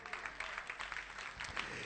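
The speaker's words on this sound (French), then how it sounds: "Applaudissez Jésus" Church congregation clapping during a sermon, a fairly quiet, even patter of many hands with faint voices mixed in, sounding somewhat distant.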